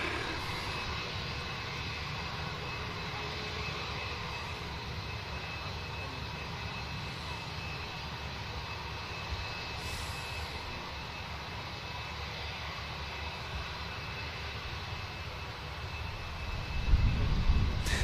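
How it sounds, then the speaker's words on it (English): SunExpress jet airliner bound for Antalya passing over an airport, a steady broadband engine roar held at even loudness throughout, swelling slightly louder near the end. "With the other Sun Express making its way over"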